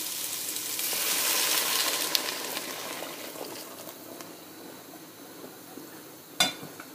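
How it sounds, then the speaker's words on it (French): Broth pours into a pot of sautéed carrots for a carrot curry soup, a soft hissing sizzle that swells then fades, with a sharp clink of a utensil near the end. "Et là, vous allez recouvrir le tout du bouillon."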